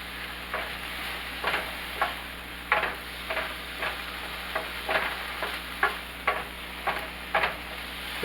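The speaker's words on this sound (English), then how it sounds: "to cook this chicken breast too long" Chicken breast, seasoned with salt and pepper, cooks in a pan with a steady sizzle, punctuated by regular scraping and stirring knocks about every half second to second, fairly close and with no talking.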